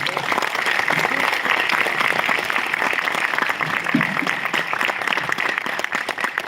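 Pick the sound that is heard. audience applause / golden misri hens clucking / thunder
audience applause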